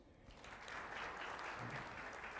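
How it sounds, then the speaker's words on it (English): Faint, distant applause rises in a hall at a provincial government public dialogue in Madibeng municipality, a soft, steady patter of many hands that builds slightly and ends with a louder bump. "let's give him a round of applause"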